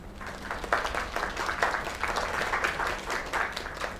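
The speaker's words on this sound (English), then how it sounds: "Another round of applause." Several seconds of crowd applause in a video game, a dense wash of clapping that swells and dips without a break.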